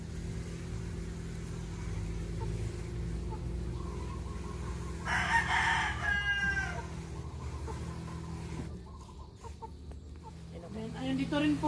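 A rooster crows once in the middle of steady free-range chicken farm ambience, with distant hens and a faint hum around it.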